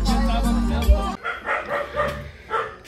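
A pack of hunting dogs barks at home after a wild boar hunt, several loud, close barks in uneven bursts following a loud rumbling noise.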